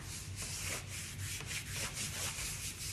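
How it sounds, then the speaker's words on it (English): A transfer is rubbed by hand onto a board for a maker craft project, giving a continuous dry scratchy rubbing with a steady back-and-forth rhythm, close and fairly loud throughout. "Rub it on."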